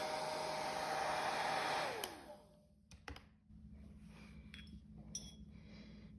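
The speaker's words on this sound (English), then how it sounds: "So I'm gonna go ahead and use my hairdryer to speed up the drying process." A hairdryer blows on a watercolor painting for about two seconds with a steady whooshing hum, then shuts off, followed by faint clinks and light tapping in a quiet room.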